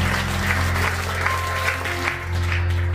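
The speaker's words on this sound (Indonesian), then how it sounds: "Tepuk tangan yang meriah buat Tuhan." A church congregation applauding during a sermon, steady massed clapping over a low sustained hum from the sound system, continuous for the whole stretch.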